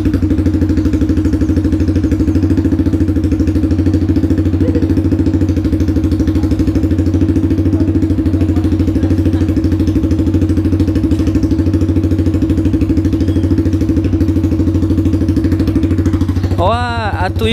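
A Honda CB Twister motorcycle with no exhaust idles close by, a loud, raw, steady low drone with rapid even firing pulses holding unchanged throughout before a brief whining rise at the very end.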